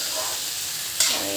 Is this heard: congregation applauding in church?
no